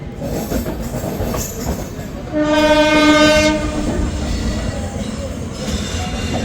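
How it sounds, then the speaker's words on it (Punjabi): The Amritsar Jan Shatabdi, train 12053, arrives at Saharanpur Junction with a loud, sustained horn blast rising over a steady rumble of rail and station noise. "ਆਪਣੀ ਟ੍ਰੇਨ ਜਿਹੜੀ ਆ ਸਾਨਪੁਰ ਜੰਕਸ਼ਨ ਤੇ ਪਹੁੰਚ ਗਈ ਆ ਜਨ ਸ਼ਤਾਬਦੀ ਅੰਮ੍ਰਿਤਸਰ ਜਨ ਸ਼ਤਾਬਦੀ"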